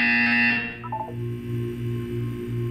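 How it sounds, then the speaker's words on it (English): A buzzer in the Portal 2 video game: a loud electronic tone at the start gives way to a series of short pulsed buzzes repeating at a steady rhythm, with no speech. "When you hear the buzzer, look up at the ceiling."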